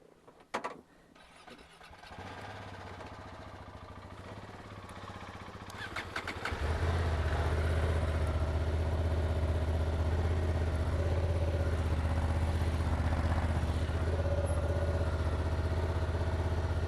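A motorbike starts after a few cranking stutters, then settles into a loud, steady close-up idle that runs on unbroken.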